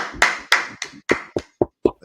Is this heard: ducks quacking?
no